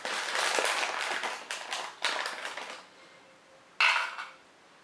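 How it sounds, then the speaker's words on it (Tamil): Almonds poured into a manual vegetable chopper rattle and clatter in several quick bursts, then fall quiet before one last short, sharp scatter of nuts near the end. "நம்ம ஆல்மண்ட்ஸை வந்து இதுக்குள்ளே போட்டுக்கணும்"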